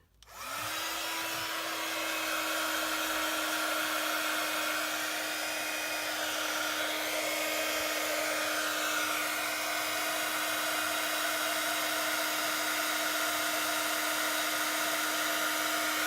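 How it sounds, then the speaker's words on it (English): A heat gun starts up and blows continuously with a steady whooshing roar and a high motor whine, unbroken and close by. "I'm just going to get my heat gun and melt that. So there will be some noise coming now."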